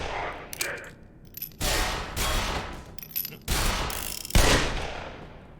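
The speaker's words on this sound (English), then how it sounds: "that guy firing RPGs" Bursts of gunfire and RPG blasts from marines fighting indoors in Black Mesa, arriving in several loud clusters separated by brief lulls, ending with a sharp heavy impact.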